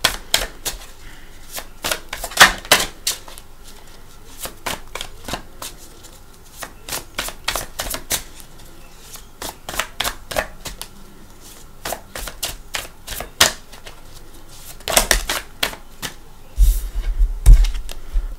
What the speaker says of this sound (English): Alright, we're going to shuffle.